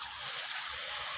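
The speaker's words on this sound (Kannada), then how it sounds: "ಸ್ವಲ್ಪ ನೀರು ಹಾಕಬೇಕು." Water poured into a pan of spiced cashew gravy, a dense steady rush and hiss of liquid hitting hot spices, close and even for about a second.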